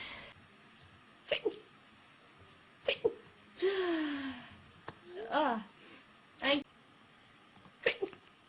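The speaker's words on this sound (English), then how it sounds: "So, and I'm about to sneeze." Several sneezes from a person, sharp and close, spaced every second or so, with wheezy gasping build-ups between them and a drawn-out, whining sneeze in the middle.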